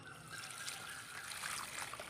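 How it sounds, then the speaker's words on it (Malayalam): Water poured outdoors to rinse dishes and pots gives a steady, faint trickle that runs without break, with light splashing and no voices. "കുറച്ച് വെള്ളം ഒഴിച്ചു കൊടുക്കാം നമുക്ക്."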